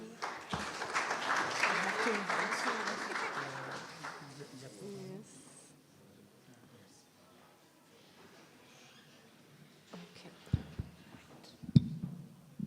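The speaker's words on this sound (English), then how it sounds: "A round of applause, please." A symposium audience applauds in a hall, the clapping loudest for the first few seconds and then fading away, with a few faint knocks and handling noises near the end.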